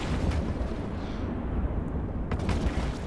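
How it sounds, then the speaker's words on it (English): Rocket explosions in EVE Online, a continuous heavy rumble of blasts and eruptions with a few sharper bursts, loud and dense throughout. "Splodies. Explosions!"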